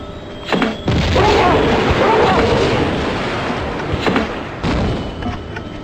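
Grenade launcher rounds explode in the Tomb Raider action-adventure game, as several loud booms burst over a sustained rumbling roar, with two sharp blasts early and two more near the end.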